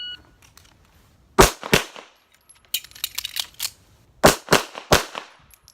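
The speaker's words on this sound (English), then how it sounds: "draw, fire 2 to the chest, conduct an out of battery reload, and fire 2 to the chest and 1 to the brain" Handgun shots fired during a qualification drill: a loud pair of shots, a pause for an out-of-battery reload with clicks and handling noise, then two more shots and a final shot, no talking.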